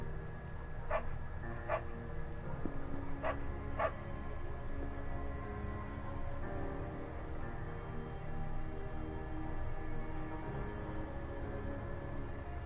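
A dog named Bucket gives four short, sharp yips in the first few seconds, moderately close, then falls quiet over a steady low background hum.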